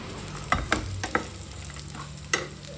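Capsicum curry frying in a pan, with a spoon stirring and scraping in four or five distinct clattering strokes over a steady low sizzle, close and fairly quiet.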